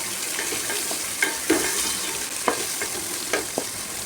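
Onions, curry leaves and a dried round chilli sauté in a pan, giving a steady close sizzle broken by occasional sharp clinks and scrapes of stirring.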